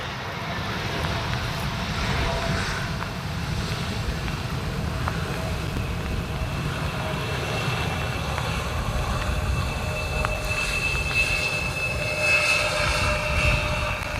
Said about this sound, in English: It's an Embraer E175.